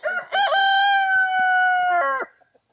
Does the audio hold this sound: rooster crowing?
yes